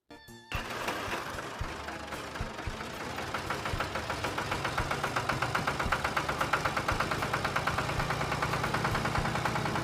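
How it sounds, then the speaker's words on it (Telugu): A tractor engine chugs as the tractor crawls slowly out of mud over a wooden plank, a close, steady rhythmic knocking that grows slightly louder and more pronounced as it labours forward. "అలాగా స్లోగా ట్రాక్టర్ ఎదరకొచ్చేస్తది అంతే"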